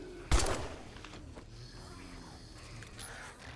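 One sharp gunshot cracks out in 7 Days To Die and leaves a brief decaying tail, followed by quiet, low background rumble.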